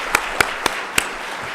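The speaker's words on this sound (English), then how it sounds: "Let's give Tom a round of applause" A few scattered claps from a small audience at an investment talk, four distinct hand claps spaced apart over a quiet room, then fading out.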